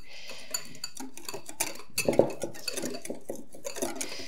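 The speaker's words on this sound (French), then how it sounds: "nous allons mélanger ces deux ingrédients à sec" Sugar and custard powder mixed dry in a bowl, a utensil clinking and scraping against the bowl in an irregular run of light taps and scrapes, close and alone without talk.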